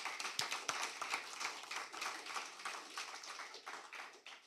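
A debate audience applauds the competing school teams with scattered, fairly quiet clapping, a few sharp claps up front and then a looser patter that rises and dips over several seconds.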